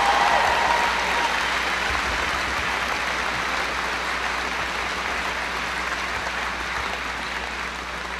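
Sustained, dense applause from a large graduation audience, loud and steady throughout before tapering slightly toward the end, with no voices above it.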